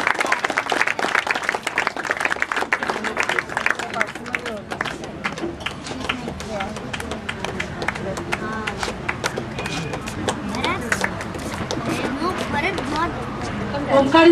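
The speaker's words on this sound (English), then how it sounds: "Parents, I really can't hear you clapping." Parents clapping and cheering at a school graduation day, continuous crowd applause with chatter and voices over it, fairly loud and busy throughout.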